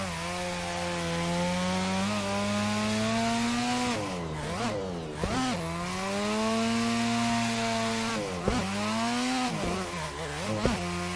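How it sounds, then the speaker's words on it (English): Sustained engine drone with shifting pitch from a car in a video game as it launches into a huge jump drift, dipping and rising sharply through the jump and landing, loud and continuous with no talking. "We're gonna try a huge jump drift here"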